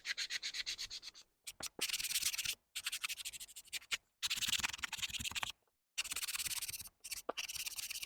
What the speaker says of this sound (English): I want to sand a little bit on this